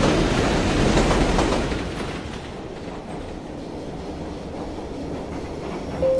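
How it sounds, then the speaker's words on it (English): An Inner Circle Line train passes with a loud rumbling roar and clattering wheels that fade into a steady, quieter rolling hum. "The Inner Circle Line train headed for..."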